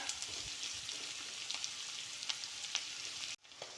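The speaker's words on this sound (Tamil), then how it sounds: "வதங்கட்டுங்க இதெல்லாம் நல்லா வதந்து வரட்டும்" Vegetables sautéing in a pan for a fried sankara fish curry, a steady close crackling sizzle with small stirring ticks, cutting off abruptly near the end and resuming faintly.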